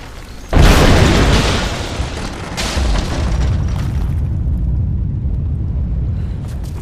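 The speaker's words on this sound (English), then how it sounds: "Looks like I'll have to use Greek fire." A loud Greek fire explosion blows apart the unstable statue's supports in Rise of the Tomb Raider, a sudden heavy boom that rolls into a long rumbling roar and debris noise lasting several seconds.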